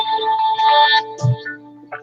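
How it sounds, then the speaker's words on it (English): An incoming call on a mobile phone rings out as a bright, tonal electronic melody, loud and close, with a short low thump partway through. "It's probably Lady Hammer calling"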